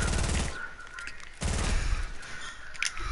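A sniper shot rings out in a console shooter match, a loud sharp report followed by a dense burst of overlapping gunfire and explosive cracks that fill the short stretch.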